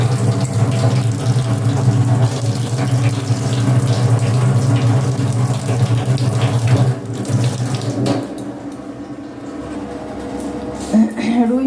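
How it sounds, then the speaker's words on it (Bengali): Rui fish being washed under a running kitchen tap, a steady close splash of flowing water into a sink that fills most of the clip before tapering off, with faint voices in the background. "না হলে সরো, আমি মাছগুলো ধুয়ে নিচ্ছি।"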